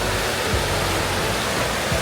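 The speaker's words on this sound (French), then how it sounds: "c'est que des petites cascades, des petits ruisseaux." Small waterfalls and streams on a hiking trail pour in a loud, dense, unbroken rush of water, close and steady for the whole moment with no talk.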